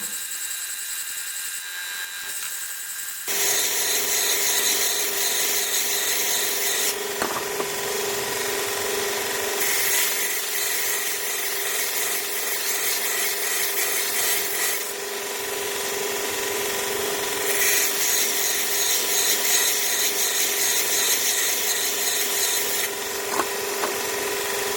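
Skew chisel ground on a Robert Sorby ProEdge belt sharpener with a jig, a steady abrasive hiss and whir after a quiet start, rising and falling as the blade slides across the belt width, with no talking.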